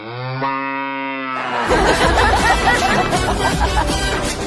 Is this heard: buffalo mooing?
yes